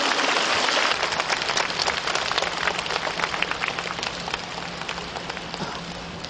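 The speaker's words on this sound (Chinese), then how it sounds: "我们再次以热烈的掌声感谢老和尚慈悲开示" A large audience at a Buddhist mass recitation assembly applauds a master's talk, with dense, sustained clapping that is loud at first and tapers slightly as it continues.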